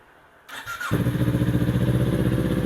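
A 2017 Kawasaki Ninja 400 motorcycle starts up after a brief starter whine and settles into a steady, close, pulsing idle, loud and alone with no talking.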